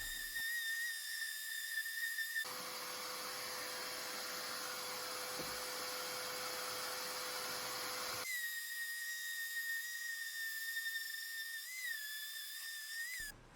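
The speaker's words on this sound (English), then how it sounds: "just clamp all the legs together and then run your sander across the side and flip them over" A power sander runs across clamped wooden coffee table legs in one steady, hissing pass lasting several seconds, framed by a faint high whine before and after.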